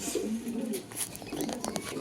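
Golden running Lahori pigeons coo in a loft, with soft low repeated coos close by and a few brief higher sounds over a light background.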